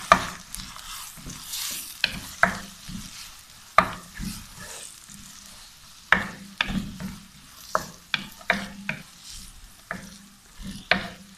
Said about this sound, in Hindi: इसके बाद हम इसमें डाल देते हैं प्याज। थोड़ा सा हम इसको भून लेते हैं।